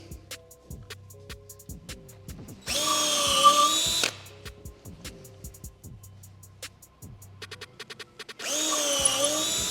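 A Lamello Zeta P2 joinery machine drills a hole in two loud, steady bursts of about a second each, separated by quieter handling clicks and knocks.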